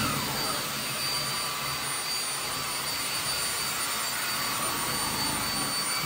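A Bosch Unlimited 7 Pro Hygienic Aqua cordless vacuum cleaner runs in turbo mode with a loud, steady, high-pitched whine and roar. The sound is close and continuous with no talking.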